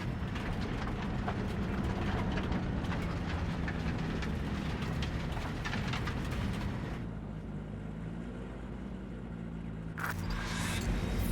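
A train in the Cyberpunk 2077 video game rumbles past loudly and continuously, a dense heavy roar that drops in intensity partway through, then a brief burst returns.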